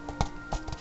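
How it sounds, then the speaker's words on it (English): Footsteps in the video game Kingdom Hearts, a short run of soft, clip-clop-like steps landing in uneven rhythm, close and moderately loud. "All you hear is footsteps."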